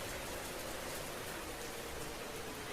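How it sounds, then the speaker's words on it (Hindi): Steady rain falls in a continuous broadband hiss, even and unbroken throughout, with no voices. "कुछ ही देर में बारिश शुरू हो गई।"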